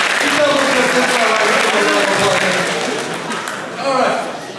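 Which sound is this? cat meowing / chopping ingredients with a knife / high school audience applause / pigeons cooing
high school audience applause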